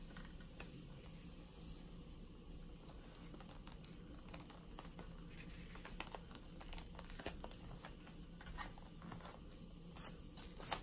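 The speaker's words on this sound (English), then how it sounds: "you're gonna fold it on that line" A paper cruise luggage tag being folded along a line by hand, with quiet close crinkling and soft tapping clicks scattered through, faint and without talk.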